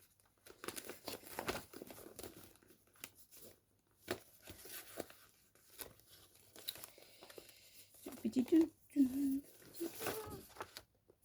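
Paper scraps rummaged in a bag, with repeated crinkling, rustling and tearing bursts at close range, broken by quiet gaps and a few soft vocal sounds.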